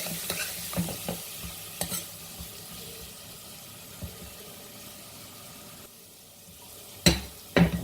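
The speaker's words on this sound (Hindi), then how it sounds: "आलूओं को भी इस तरह से भून लेंगे।" Spiced potatoes being fried and turned in a pan for a garlic potato and okra dish, giving a low, quiet sizzle broken by occasional scraping stirs, then a few louder clatters near the end.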